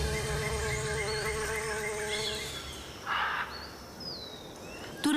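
Bees and other insects buzz around flowering trees in the Amazon rainforest, a dense continuous drone with passing individual buzzes and faint bird chirps, no talk.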